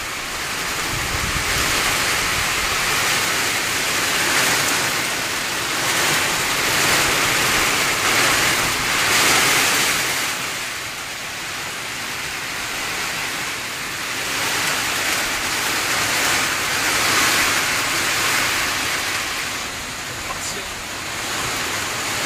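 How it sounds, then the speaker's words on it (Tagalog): Heavy rain with strong wind pours in a continuous, loud hiss that swells and eases slightly over time, like a steady downpour close by. "ang lakas ng ulan"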